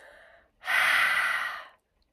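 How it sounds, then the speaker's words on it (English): A person breathes out forcefully during steam inhalation, one long, loud breathy exhale lasting about a second after a softer breath, then silence. "when I breathe out, I make sure I breathe out like"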